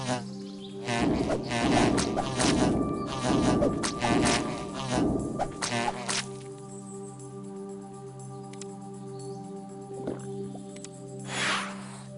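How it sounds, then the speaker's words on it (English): Insects buzz in the video game Divine Divinity, a dense, loud swarm of droning wingbeats over several seconds that fades into a quieter steady hum, with no talking. "Bees."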